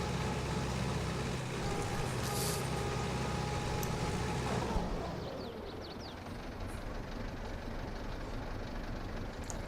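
Tractor engine in Farm Simulator 22 holds a steady drone with a whining tone, then drops to a lower, quieter idle rumble about halfway through once the throttle is released.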